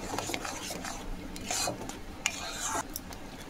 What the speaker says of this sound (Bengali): এটাকে খুব ভালোভাবে মিশিয়ে নেব।